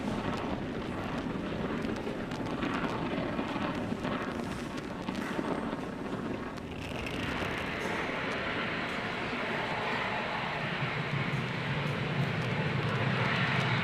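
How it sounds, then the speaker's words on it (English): A SpaceX Falcon 9 rocket lifting off from Space Launch Complex 40 on the Hera asteroid mission makes a loud, continuous broadband roar that builds in intensity and crackles steadily, with no speech heard. "Falcon 9 has successfully lifted off from Slick 40."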